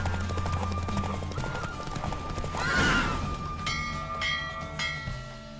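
Horse hooves clip-clop steadily during a ride in The Witcher 3 video game, with a whinny rising briefly midway, all set against continuous game music and bell-like tones.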